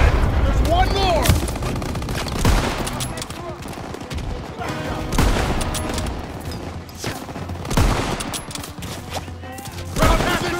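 Repeated heavy gunfire and booming blasts in a WW2 combat video game, with a gunner firing on a tank; sharp loud shots land every couple of seconds over a dense battle din, with shouted voices mixed in.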